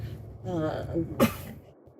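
A single sharp sneeze bursts out after a short, breathy vocal sound, then fades into quiet background.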